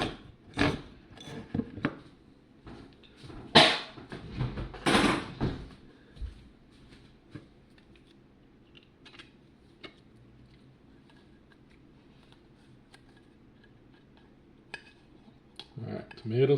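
Spoons and other utensils clattering against one another in a sink, with a burst of sharp clinks and knocks near the start, then quieter scattered taps and a few clanks near the end.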